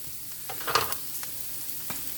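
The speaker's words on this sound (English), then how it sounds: "I'm going to just lightly saute this, because they're going to cook again once they're inside the spring roll." Turkey egg roll filling sautéing lightly in a pan, a faint steady sizzle broken by a few soft utensil scrapes and stirring clinks, fairly quiet and close.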